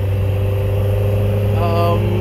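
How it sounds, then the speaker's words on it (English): A Toyota Starlet fitted with a standard Toyota dual Beams engine breathing through individual throttle bodies runs loud and close, a steady droning tone with a brief rising rev near the end. "Nothing's been done to the engine. It's a standard dual beams engine."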